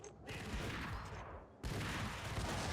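Dual Ingram submachine guns firing at a boss in Max Payne, dense rapid bursts of automatic gunfire in two long volleys separated by a brief gap, loud and harsh.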